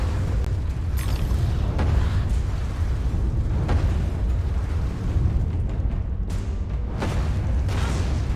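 A giant cannon in the video game Alice: Madness Returns fires exploding shots. Several heavy booms rise out of a loud, continuous low rumble, spaced unevenly across the stretch, with no speech.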